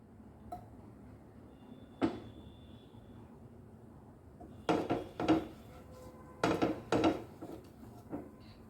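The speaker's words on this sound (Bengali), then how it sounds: "তো এই মাখনটা গলে গেলে, এটা গলতে যতটুকু সময় লাগবে আর কি, অনবরত নাড়তে হবে এটাকে।" A spoon stirs melting butter in a pan for a white sauce pasta, giving close, intermittent clinks and scrapes in small bursts over a quiet kitchen background.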